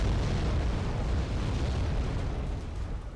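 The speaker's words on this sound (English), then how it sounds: "Su-24 dropping the bombs." Bombs dropped by a Su-24 in the video game Wargame: AirLand Battle detonate as a heavy, continuous rumbling blast that stays loud and dense throughout, with no voices.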